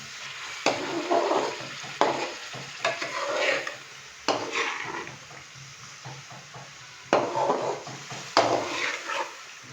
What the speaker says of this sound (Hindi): 4 से 5 मिनट अभी हम इसको मज़ीद भून लेंगे